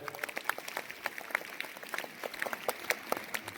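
Applause for teachers at a school ceremony honouring students who passed their board exams: a crowd claps steadily and fairly faintly for several seconds, with scattered individual claps.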